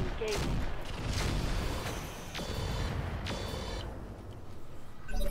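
Turret gunfire in the Roguepoint video game, dense rapid bursts of shots over a continuous loud rumble, with brief high mechanical tones between volleys.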